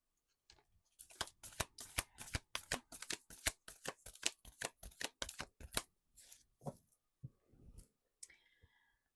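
A deck of tarot cards being shuffled, with a long run of quick, crisp riffling bursts close up and no talk, ending in a few softer taps as the deck settles.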